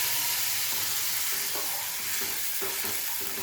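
A spice mixture with cumin powder and red chili powder sizzles steadily in a hot tempering for tomato saar, a constant close frying hiss with soft stirring scrapes and no voices.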